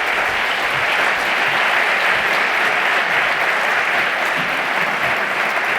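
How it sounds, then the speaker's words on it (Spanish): An audience at an event applauds steadily, a dense, sustained wash of clapping from a crowd that stays at an even level throughout. "Ya sobre los aplausos, para que no dejen de sonar"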